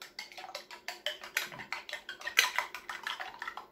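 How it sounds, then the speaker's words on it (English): Egg being whisked for waffle batter, a steady rhythm of quick clinking strokes against a bowl, close and fairly loud, with no voices. "Whisk a little my egg"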